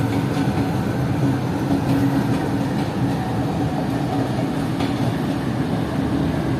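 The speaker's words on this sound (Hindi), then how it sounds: "तो ये हमारी ट्रेन का locomotive GU24559 Y turn table पर रिवर्स होने के लिए जा रहा है।" Train locomotive GU24559 moves onto a turntable to reverse: a continuous low rumble of rail movement and engine with faint clanks, steady and moderately loud throughout.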